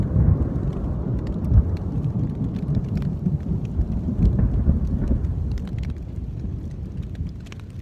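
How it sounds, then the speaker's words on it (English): Heavy rain and thunder outdoors on a multi-day hiking trip: a dense, loud downpour with deep rolling thunder rumbling underneath, steady throughout and easing slightly toward the end. "there's no sign of this rain at all letting up"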